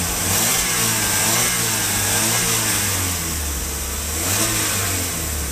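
A Suzuki Splash car engine fitted with a resonator exhaust revs repeatedly, its loud, close, droning exhaust note rising and falling in long swells with no talking over it.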